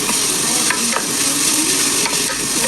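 Ingredients for sup roti being stir-fried in oil, a loud continuous sizzle close up, with occasional scraping strokes of a spatula through the pan and no talking.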